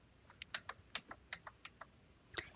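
Fingers tap keys on a computer keyboard in quick, uneven bursts, a close, crisp clicking with short pauses between keystrokes.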